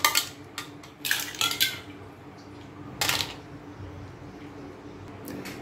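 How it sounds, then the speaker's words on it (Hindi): Ice cubes dropped onto cut mango pieces in a blender jar for homemade mango juice, a few sharp clattering clinks in quick bursts, close and fairly loud, then quieter hollow rattles. "अब हम इसमें आइस डाल देंगे।"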